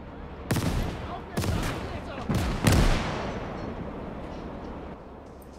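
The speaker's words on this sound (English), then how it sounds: "they're really bombarding us. They got a big mortar, I think." Four heavy mortar blasts in the World War II game Gates of Hell land about a second apart, each a loud booming crack with a long rumbling decay, and voices talk faintly underneath.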